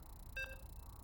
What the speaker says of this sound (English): And you can hear the beeps.